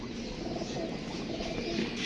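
A pigeon coos softly and continuously at close range, low murmuring calls over faint background noise.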